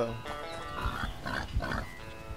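Grunts from a pig in a video game, a few short rough oinks in quick succession at close range, with faint game ambience beneath.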